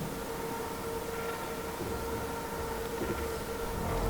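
A sustained, droning siren wail from the Siren Head creature in a forest horror video game, steady and loud throughout with a rumbling low background, no speech.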